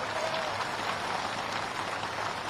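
A large crowd at an outdoor political rally in Shadora, Ashoknagar, claps steadily and densely, a continuous rain-like roar of applause with no pauses.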